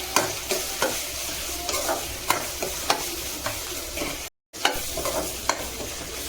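Onions frying in a pan with salt, a steady sizzle broken by regular scraping strokes of a spoon stirring, loud and close, with one brief dropout.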